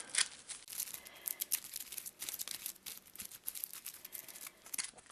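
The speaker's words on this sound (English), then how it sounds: "we're going to have to shuffle all these together" Arkham Horror game cards being shuffled together, a fast run of crisp riffling and papery flicks with sharp bursts, close and fairly quiet, no talking.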